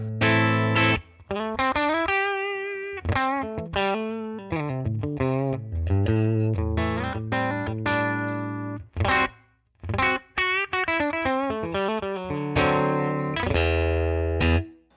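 A distorted electric guitar played through the Amplitube 5 amp simulator with a Fender-style tone plays a run of riffs and sustained notes with a processed amp tone, loud and up close, with no talking.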